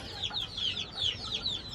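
Big fancy-breed chickens on a Bangladeshi poultry farm clucking in short, repeated bursts, fairly close, over a low background rumble.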